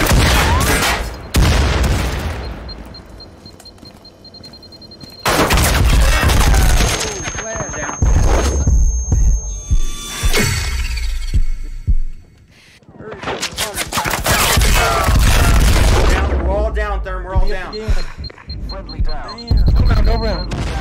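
Grenade blast and bursts of gunfire in the VR shooter Firewall Zero Hour, loud repeated volleys and sharp booms separated by brief lulls, with players talking over the fighting.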